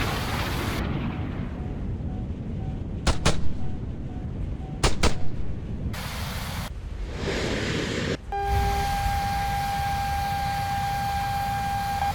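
Missile strike in a video game: a steady low rumble punctuated by two sharp, loud double blasts, then a deep booming impact followed by a thinner hum and a steady electronic tone.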